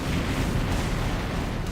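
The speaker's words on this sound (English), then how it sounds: "But now we got some para bombs here." Para bombs explode in the real-time strategy game Red Alert, a dense, continuous rumbling roar of blasts that fills the whole moment without a break.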